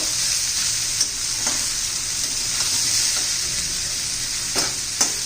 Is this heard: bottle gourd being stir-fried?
yes